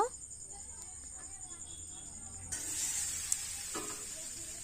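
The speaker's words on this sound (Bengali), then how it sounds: "আলু তিন থেকে চার মিনিট নাড়াচাড়া করে আলু ভেজে নিতে হবে" Boiled potatoes, tossed with turmeric, fry and are stirred in hot oil in a wok, a soft sizzle that grows louder partway through, with occasional stirring scrapes.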